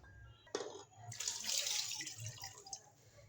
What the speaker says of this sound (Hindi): इसमें आधा कप हम और पानी डालेंगे